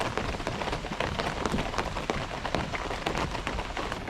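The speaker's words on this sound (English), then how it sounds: "It's pouring down rain at the moment." Heavy rain pours steadily onto a camping awning at an overnight riverside campsite, a dense, continuous hiss and patter that fills the whole clip, close and loud.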